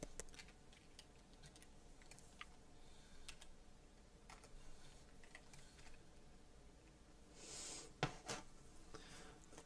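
Faint, scattered clicks of typing on a computer keyboard during an art live stream, soft and irregular under a steady low room hum, with a slightly louder burst of taps near the end.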